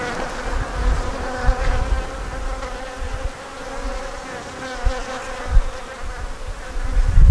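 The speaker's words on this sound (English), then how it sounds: "workers, bees." Dense, continuous buzzing of many honeybees, workers and drones, close by around a hive frame, with occasional low thumps and handling bumps underneath.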